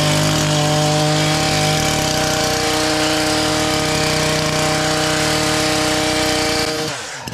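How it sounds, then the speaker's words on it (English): Powered edge trimmer cutting along garden edges: a loud, steady motor whine with a constant pitch runs nearly throughout, then cuts off abruptly at the end. "Time for some edge trimming."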